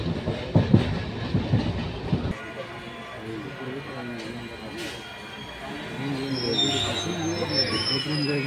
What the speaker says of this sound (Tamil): ட்ரெயினும் நல்லா வேகமாக போகுது